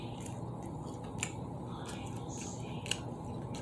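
A crunchy fried chicken nugget is bitten and chewed close up, with a few faint crisp crunches over a low, steady background hum.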